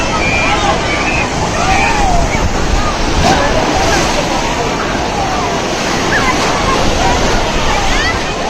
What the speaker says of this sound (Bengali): ভীষণ ঢেউ তো এখানটায়